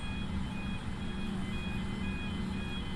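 Steady electronic reversing beeps from a baggage truck in Microsoft Flight Simulator repeat over a constant vehicle engine drone, evenly spaced and continuous throughout.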